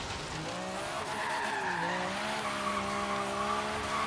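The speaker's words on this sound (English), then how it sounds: "Once that turbo kicks in, man, them tires are just spinning, even in sixth." Tires of a turbocharged Ford Lotus Cortina rat rod spin and squeal while drifting in Forza Horizon 3, a loud continuous screech over a steady engine drone with no pauses.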